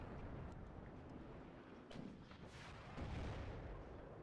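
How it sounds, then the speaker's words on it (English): Artillery shells landing in the WARNO war game, distant muffled booms and rumbling impacts scattered across a low, faint battlefield background, with no talking. "As we see a lot of shots landing all around here."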